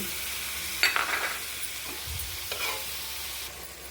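Tomato goes into hot oil seasoned with asafoetida, giving a soft sizzle with a few sharp crackles and spoon stirs, fairly quiet and close.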